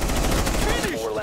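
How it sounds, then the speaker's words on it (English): Rapid gunfire in Rainbow Six Siege as a player shoots out a camera, a brief close burst of quick shots. "I'm shooting the cam."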